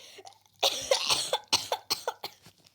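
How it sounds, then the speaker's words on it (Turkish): Several harsh coughs burst out in a rapid cluster, close and fairly loud, tapering off into smaller coughs. "Mahsusdan öksürdüm bu arada"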